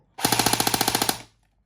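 An HK416 airsoft rifle (Double Bell DB0812) fires a single full-auto burst of about fourteen rapid, evenly spaced mechanical cracks lasting roughly one second, loud and close, then falls silent.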